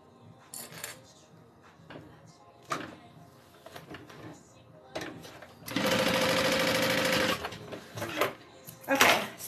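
A sewing machine stitching bag pieces together runs in one steady burst of about a second and a half, surrounded by clicks, handling noises and someone talking before and after.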